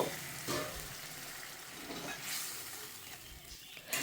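Pasta sauce with ketchup and a splash of water being stirred in a pan, giving a steady close sizzle with a few soft scraping strokes and no talk.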